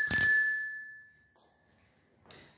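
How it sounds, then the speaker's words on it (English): A bicycle bell on a folding bike gives a single bright, close ding that rings out and fades over about a second, followed by faint handling noises. "Here's my bell."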